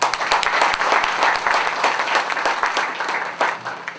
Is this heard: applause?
yes